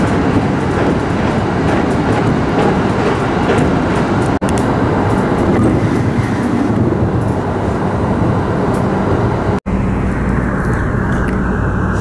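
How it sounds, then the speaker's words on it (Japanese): A passenger train pulls out of Nasushiobara Station in Japan with a loud, continuous rolling rumble and rail noise heard close up from on board, broken by two brief cuts in the sound. "列車は那須塩原駅を出発。"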